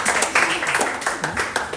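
An audience claps at a St Catherine softball association opening ceremony, with brisk, fairly loud hand claps rolling continuously and a voice faintly present underneath.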